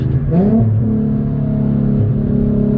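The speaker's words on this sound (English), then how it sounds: "Downshifts are crisp." Infiniti G37x with a gutted exhaust downshifting: a loud, close engine blip that climbs sharply, then settles into a steady, raspy drone.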